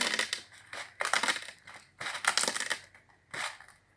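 Small pieces being broken for a craquelê mosaic craft, heard as close, dry crunching and snapping in short bursts, about four to five clusters separated by brief pauses.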